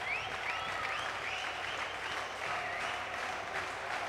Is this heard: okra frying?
no